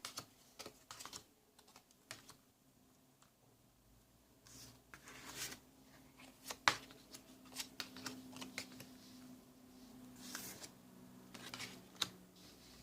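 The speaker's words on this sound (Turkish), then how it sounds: "Kartlarımı açıyorum hemen." Tarot cards are laid out one by one on a table, with quiet scattered taps, slides and shuffling rustles, irregular and faint, a few sharper clicks standing out.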